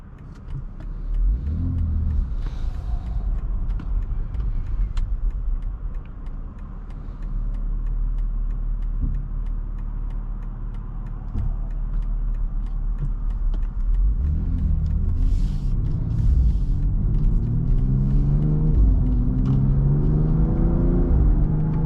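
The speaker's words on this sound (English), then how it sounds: "Such a nice exhaust." A 2022 BMW X3 M Competition driven on the road, its exhaust rumbling loudly inside the cabin, engine note rising and falling through several revving surges and gear changes with an eight-speed transmission; no one speaks.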